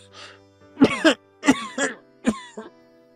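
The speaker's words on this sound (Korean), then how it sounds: "아이는 숟가락을 들었고 바로 기침이 나와 천으로 입을 막으며 콜록댔다." A child coughs into a cloth while eating soup, in three short close clusters of harsh coughs that sound like throat clearing, with silence between them.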